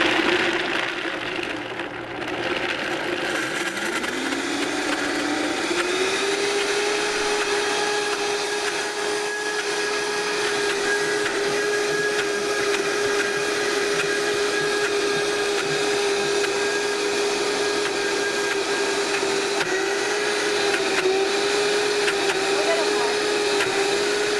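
A high-powered Vitamix blender motor roars steadily at close range, its pitch rising as it spins up, then holding a loud, even whir for the rest of the run.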